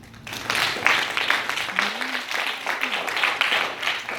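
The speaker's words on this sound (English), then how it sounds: "If you know him, clap your hands." A church congregation claps along in response to a minister's call, a steady patter of many hands filling the room at moderate volume, with a voice briefly heard through it.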